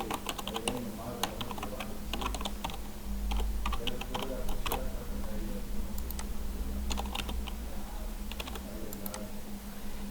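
A verification code is typed on a computer keyboard in quick, irregular runs of close, crisp key clicks over a steady low hum from nearby equipment.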